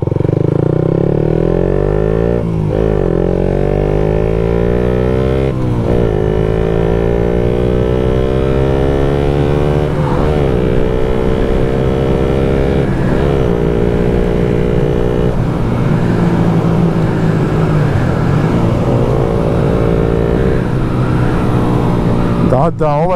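A Suzuki GSX-R 125 motorcycle accelerates hard. Its close, loud engine climbs in pitch again and again through several gear changes, with the revs dropping briefly between each surge.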